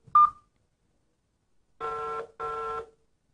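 Two steady electronic keypad tones, each lasting about half a second, sound alone in quiet after a short high beep as a phone number is dialed during a call-in radio programme.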